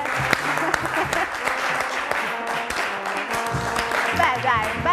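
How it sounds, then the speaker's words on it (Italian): Steady, full applause from a television quiz show studio audience, many hands clapping loudly and continuously for several seconds, with faint music and voices mixed underneath. "Con l'applauso però"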